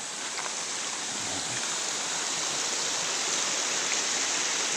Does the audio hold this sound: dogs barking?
no